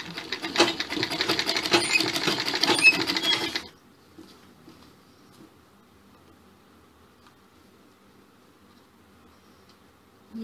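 A sewing machine stitches a collar for a sherwani-style suit, a brief close burst of fast stitching lasting a few seconds, then near silence with faint handling sounds.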